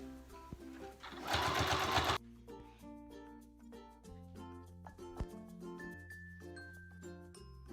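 A sewing machine stitching a fabric chair cover runs in one loud, dense burst of about a second, set against quiet background music.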